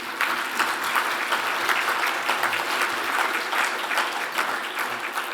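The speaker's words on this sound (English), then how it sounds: "let's give ourselves a round of applause" An audience at a South Florida Muslim community gathering applauds, a dense, even wash of many hands clapping that holds steady at moderate loudness for several seconds.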